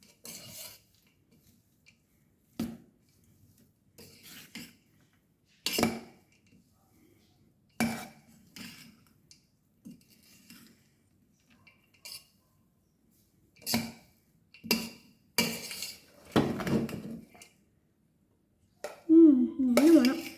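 Food is being mixed by hand in a bowl, making scattered clinks and scrapes of a utensil against the dish between long quiet gaps. A voice speaks briefly near the end.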